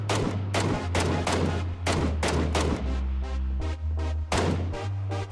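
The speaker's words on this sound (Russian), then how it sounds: "Это двое там стреляют." Gunfire in the game PUBG cracks out as a steady series of loud, evenly spaced single shots, about a dozen, over a low engine-like hum.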